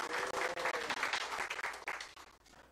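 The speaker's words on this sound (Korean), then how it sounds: "하나님께 영광의 박수 올려드리고 여러분에게 감사의 박수 올려드리고" Applause from a church congregation during a Sunday evening service, a dense, steady patter of many hands clapping together for a few seconds without speech.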